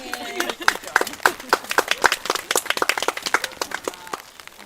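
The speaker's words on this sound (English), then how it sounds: "She deserves some applause." A small wedding party claps for the bride, a quick run of distinct, close, uneven hand claps rising and then tapering off, with voices mixed in.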